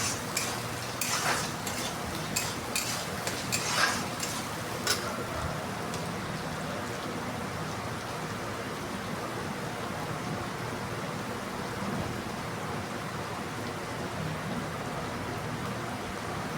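Onions with salt sizzle steadily in a pan, a soft continuous hiss with a few sharp clinks of a utensil in the first seconds.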